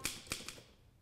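Typewriter keys struck in a sparse, uneven series of three sharp clacks followed by a faint fourth, close and fairly quiet, with no voices over them.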